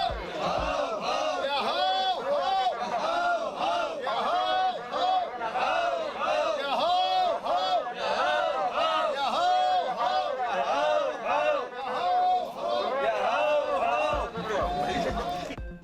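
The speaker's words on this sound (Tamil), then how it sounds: "ஆரவாரம்." A large crowd of Badaga people in traditional dress at a harvest festival in Kadanadu village raises a dense, continuous roar of many voices, loud and sustained throughout with shouts and chatter blended together.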